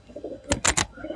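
Malwai pigeons from Punjab give three short, close cooing calls in quick succession over a quiet background.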